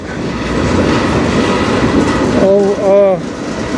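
A CN manifest freight train led by locomotives 3185 and 5629 rolls past on the Strathroy Subdivision with a loud, steady rumble of cars, and near the end a horn-like tonal blast sounds briefly over the noise.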